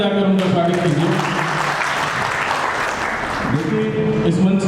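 An audience at a temple-courtyard meeting claps loudly and steadily to welcome a guest onto the stage, a dense sustained round of applause with voices mixed in.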